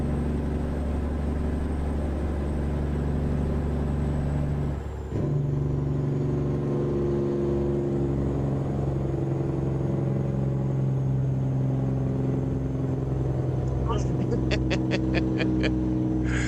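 A truck engine drones steadily while driving in American Truck Simulator, a constant low rumble with a brief dip near five seconds and rapid ticking clicks toward the end; a voice speaks faintly underneath.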